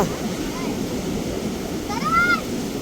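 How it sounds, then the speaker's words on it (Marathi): Strong, rough sea waves surge and wash continuously near a fishing spot, a loud steady roar of surf throughout, with a brief voice heard over it. "लाटा बघा येतात कडक एकदम जबरदस्त लाटा आहे"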